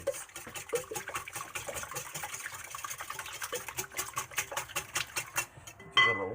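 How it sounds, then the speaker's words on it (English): Eggs being whisked for frittatas in a bowl, a rapid run of light clinking strokes close by that runs steadily throughout, with a sharper clatter near the end. "Let me give this a little whisk."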